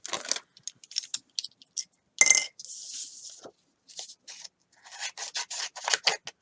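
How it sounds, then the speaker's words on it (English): Scissors fussy cutting around stamped cardstock pieces for a stacked teacup stepfold card, heard as a run of short, crisp snips and rasping slides of paper, close and clear with brief pauses between cuts and no talk. "Now let me get my scissors and we'll fussy cut these."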